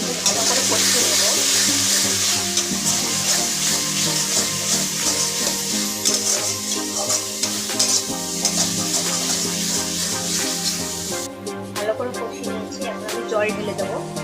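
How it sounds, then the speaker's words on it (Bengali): Spices with Kashmiri chili fry and are stirred in a pan for a Katla Kalia fish curry, a steady, loud sizzle under continuous scraping of a spoon, with a faint voice in the background. "আমি এখানে কাশ্মীরি লঙ্কাও দেবো। ভালো করে কষিয়ে নেবো।"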